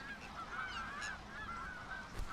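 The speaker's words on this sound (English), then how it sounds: "The sound of the mute swan's call is rather muffled, even somewhat hoarse" Mute swan calling in the wild, a muffled, hoarse honking that wavers continuously through the clip at moderate loudness, with no voices present.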